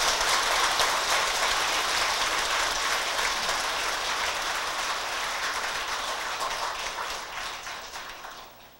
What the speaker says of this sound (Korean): 축하의 큰 박수로 모시겠습니다